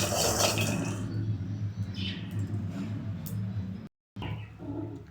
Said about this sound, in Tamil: கத்திரிக்காய் கழுவி